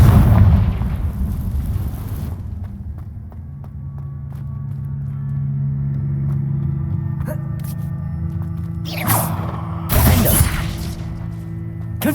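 Confringo blasting curse in the game Hogwarts Legacy, a loud opening blast that fades into a low rumble, followed by a couple of sharp bursts and a heavy crackling explosion near the end.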